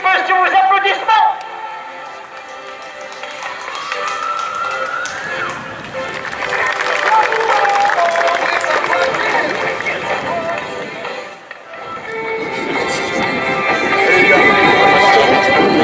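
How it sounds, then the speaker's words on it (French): Spectators cheer and applaud loudly at a regional football match as the Béthune and Loos-en-Gohelle teams walk onto the pitch, a dense, sustained crowd roar mixed with music, with a brief dip before swelling again. "Et voici l'entrée des deux équipes sur vos applaudissements."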